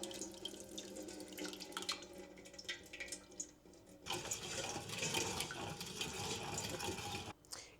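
Stewed-down tomatoes pour from a pot into a container in a home kitchen, a steady liquid splash starting quietly and then running louder and continuous before stopping near the end.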